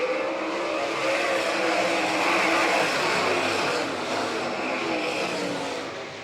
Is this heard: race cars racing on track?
yes